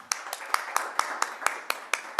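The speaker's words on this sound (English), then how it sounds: "Let's give him a round of applause." Sparse, evenly spaced hand claps at a Black Studies academic session at Concordia, about ten distinct sharp claps in a quick regular rhythm, sounding like only a few people in a quiet room.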